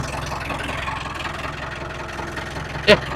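A tractor engine idling up close, a steady low rumble with a brief sharp knock near the end and no talking.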